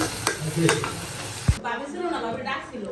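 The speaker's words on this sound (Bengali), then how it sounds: "নুডলস রান্না করতেছি।" Noodles fry and get stirred in a pan without spices, a steady close sizzle with scraping stir strokes and one sharp clack of the utensil before the frying settles lower.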